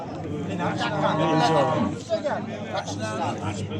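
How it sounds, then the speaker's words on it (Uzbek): A calf moos loudly and close by at the Chuvama livestock market in a long drawn-out call, followed by shorter lowing sounds, with faint voices in the background. "Bolasini ovozsi ekan."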